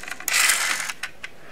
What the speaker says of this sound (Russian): Фрикционный механизм.